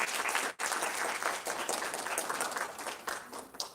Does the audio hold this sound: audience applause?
yes